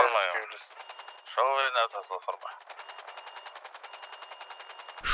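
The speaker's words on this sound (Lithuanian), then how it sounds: "Šūviai." Voices speak briefly through a thin, radio-like channel, then a long run of rapid, evenly spaced gunshots rattles on like automatic fire, moderately loud and narrow in tone.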